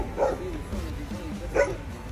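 Dogs bark in two short bursts, near the start and again after a pause, moderately close over faint background noise and movement.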